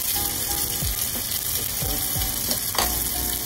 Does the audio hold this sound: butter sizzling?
yes